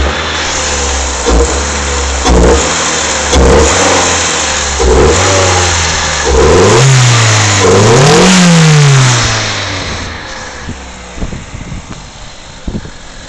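Repeated revs from a four-cylinder car running without its exhaust system, each blip rising and falling, with air rushing through the intake, loud and close before settling back toward idle near the end.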